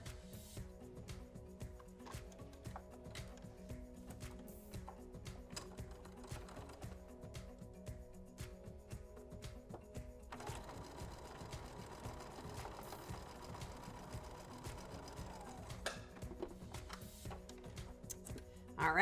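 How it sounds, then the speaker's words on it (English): A domestic sewing machine stitches quilt units together for a four patch, running in a steady mechanical hum with a denser, brighter burst of fast stitching partway through; no one speaks. "let's sew it together"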